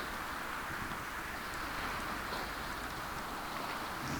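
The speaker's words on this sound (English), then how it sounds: "And it's actually raining." Steady rain falls during a storm in the sailing game Sailwind, a dense, even hiss of drops that holds at a constant level for the whole stretch with no voices over it.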